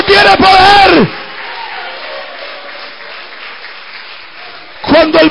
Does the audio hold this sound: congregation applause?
yes